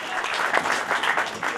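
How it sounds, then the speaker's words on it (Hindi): Brief burst of audience applause at a Holi poetry gathering, steady clapping from a crowd filling the hall, close and fairly loud. "पूरा सदन जोरदार तालियों के साथ वंदन"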